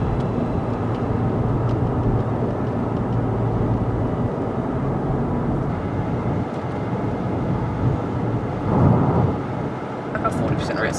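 Deep, continuous thunder from a severe thunderstorm rolls on for about eleven seconds as a steady, loud rumble, swelling briefly near the end.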